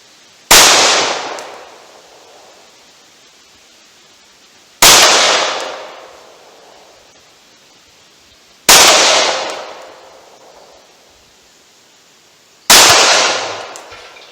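Four .45 ACP pistol shots fired at a target 70 yards away, each a sharp loud crack with a decaying tail, spaced about four seconds apart.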